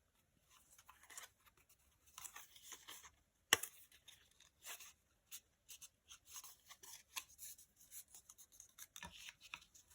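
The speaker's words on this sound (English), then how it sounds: "Burnish everything now to make my life a little bit easier." Die-cut paper pieces are burnished by hand: faint, intermittent rubbing and scratching strokes with short pauses and one sharp tap.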